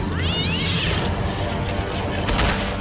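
Cartoon Cat creature giving a drawn-out, wavering meow that rises and falls, followed by a shorter second cry, over a steady noisy background.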